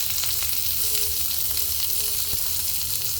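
Salmon and eggs frying in butter in a pan, a steady close sizzle with soft crackles and the occasional faint clink, continuous and fairly loud with no talking.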